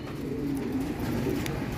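Pigeons perched on a big house coo in a steady low murmur, a dense flock sound heard fairly close against constant background noise.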